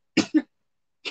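Two quick, harsh coughs in close succession, then a brief pause and the start of a third, close and fairly loud.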